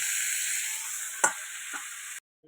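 Raw banana and potato pieces frying in a pan, a steady close hiss of sizzling oil with a single stir or tap midway, cutting off abruptly near the end.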